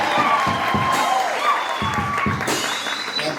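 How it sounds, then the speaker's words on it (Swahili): Wedding congregation clapping in praise, a loud broad wash of hand claps with a few sharp individual claps standing out and scattered cheers, fading slightly toward the end. "Tupige Yesu makofi mazuri."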